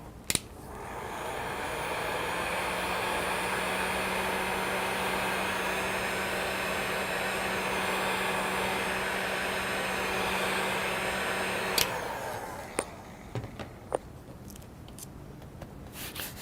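A hair dryer runs steadily and loudly for about twelve seconds, drying a watercolor painting of an oyster shell, then cuts off, leaving a few faint clicks and taps.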